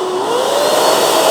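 A Pawaboo pet hair vacuum dryer runs after being switched on, blowing with a loud steady whoosh and a whining motor tone that rises slightly in pitch as it settles in, close by with no speech.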